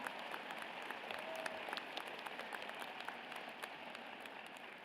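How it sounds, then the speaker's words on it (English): Sustained applause from a crowd at a 2024-25 commencement ceremony, dense and steady throughout, heard at some distance. "Graduates, please give them a well-deserved round of applause."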